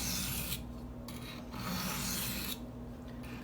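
A Spyderco Native 5 knife edge rasps in a few short strokes across a Gritomatic silicon carbide sharpening stone, close and soft, with brief pauses between passes.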